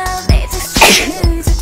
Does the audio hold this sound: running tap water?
no